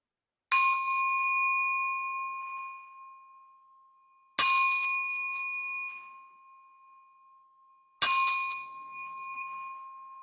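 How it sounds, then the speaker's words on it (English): A meditation bell is struck three times at slow, even intervals, each bright metallic ring sounding alone and fading away for several seconds before the next strike. "I'll ring the bell 3 times to officially start the meditation"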